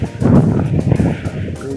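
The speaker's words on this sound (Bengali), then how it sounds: "অনেক বাতাস।" Strong wind blowing outdoors in Saudi Arabia roars into the microphone as a loud, uneven low rumble with gusty surges throughout.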